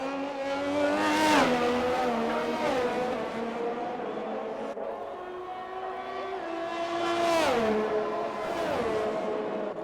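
Race cars in a racing video game cross the finish line in turn, their engines rising and falling as they pass in loud whining sweeps, one after another.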